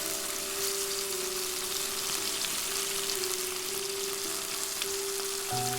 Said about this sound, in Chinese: 用中火煎至金黄色